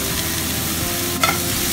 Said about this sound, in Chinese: 再炒下它